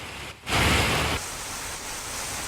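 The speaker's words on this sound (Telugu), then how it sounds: "విజయవాడను భారీ వర్షం ముంచెత్తింది" Heavy rain pours down in Vijayawada as a dense, broadband wash of noise, surging louder for a moment before settling into a steady, continuous roar.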